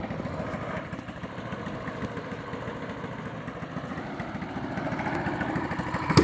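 A Predator 212 pit bike engine fitted with only a 2-stroke exhaust pipe runs at a steady idle, a continuous throbbing putter that rises slightly near the end.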